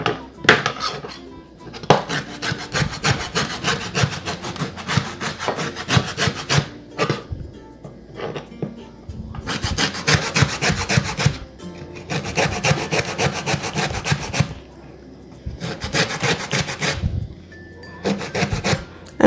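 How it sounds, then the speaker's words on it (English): An orange and a lemon are zested with a hand zester in repeated bursts of close, dry scraping and rasping strokes separated by short pauses. "Now I'm gonna zest the orange, and I'm also gonna add some lemon zest to it"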